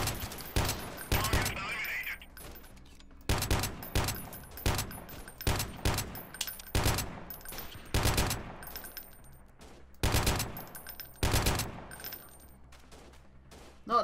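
A machine gun in the video game Freeman: Guerrilla Warfare fires in single shots, sharp loud reports spaced in uneven clusters with short quiet gaps between them.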